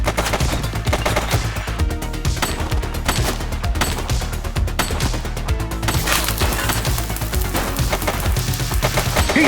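Loud, relentless gunfire in The Precinct, with rapid bursts and overlapping shots forming a dense, continuous barrage of cracks and impacts throughout.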